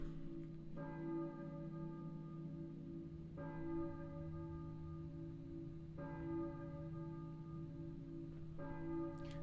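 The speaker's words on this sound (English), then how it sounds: "I hear a church bell." Church bell tolling in the Silent Hill video game, four strikes spaced a few seconds apart, each with a long ringing decay over a steady low ambient drone.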